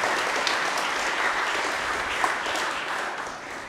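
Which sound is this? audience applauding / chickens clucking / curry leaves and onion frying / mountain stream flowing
audience applauding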